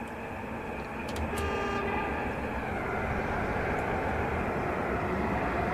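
A FLIRT electric multiple-unit train in Train Simulator rushes past, a steady broad rumble and rush that swells after the first second and holds loud, with a brief high whine and clatter early on.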